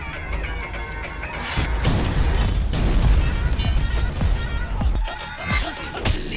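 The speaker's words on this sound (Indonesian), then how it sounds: "ledakan di kantor polisi." A loud, rumbling explosion at a police station with crashing debris and booming low end, sustained and chaotic, with a few sharper bursts toward the end.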